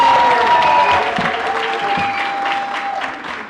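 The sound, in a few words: audience applause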